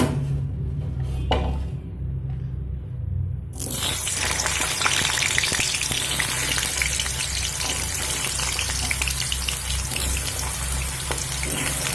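Cut potatoes hit hot oil in a pan: after a quiet moment with a low hum, a sudden loud, dense sizzle bursts out and carries on steadily, close and without talk.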